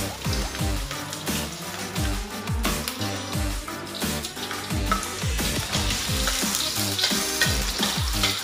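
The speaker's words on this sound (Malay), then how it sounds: "Kemudian saya masukkan bawang merah, bawang putih" Shallots and garlic fry in hot oil in a pan for a stir-fried papaya leaf and flower dish, giving a loud continuous sizzle with rhythmic scraping stirs.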